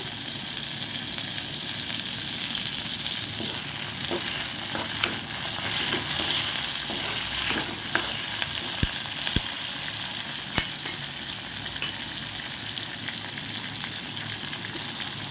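Curry leaves fry in hot oil for vegetarian kola urundai, a dense continuous sizzle and crackle heard up close, broken by occasional sharp pops and stirring clicks.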